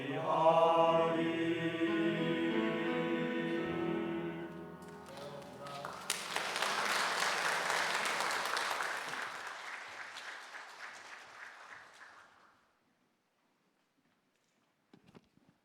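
A church congregation claps during a Friday late-night worship service, loud, dense applause rising out of the closing bars of sung music and voices, then dying away to near silence with a few scattered taps at the end.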